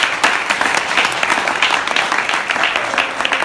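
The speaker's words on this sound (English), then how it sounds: "please give him a huge round of applause as he comes to the stage" An audience at a crypto fireside chat gives steady, fairly loud applause with dense overlapping claps throughout as a guest walks onto the stage.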